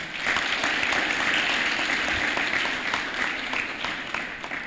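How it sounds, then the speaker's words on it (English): Audience at a guest lecture clapping for a colleague, a steady, moderately loud patter of many hands held evenly for several seconds with no talking over it. "You can clap for him as well."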